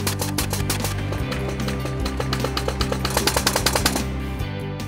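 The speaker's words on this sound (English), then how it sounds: "switch the membrane pump 1 from pressure to suction and pump out the sealant from the sewer pipe" Membrane pump switched to suction, pumping sealant out of a sewer pipe, a continuous loud mechanical rattle with rapid regular pulsing and a steady low hum.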